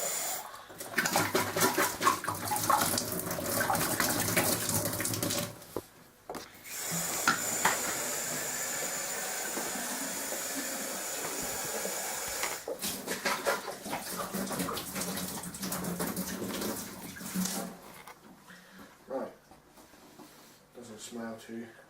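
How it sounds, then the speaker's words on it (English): Cold tap water runs in a steady hiss while beer bottles are rinsed a couple of times for bottling Coopers home-brew lager, the flow pausing briefly between rinses, with a voice talking over it nearby. "Cold water, basically, just rinse a couple of times."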